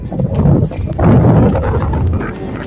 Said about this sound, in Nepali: हावा यस्तो जोडले चढे हो।